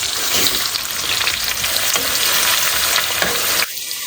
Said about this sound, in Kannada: ಜೊತೆಗೆ ಮೆಣಸಿನ್ಕಾಯನ್ನು ಹಾಕ್ತಾ ಇದ್ದೀನಿ ಎರಡು ಒಂದೇ ಸರಿ ಹಾಕ್ಬಿಡಿ ಕರ್ವ ಸ್ವಲ್ಪ ಲೈಟಾಗಿ ಹಾಕಿ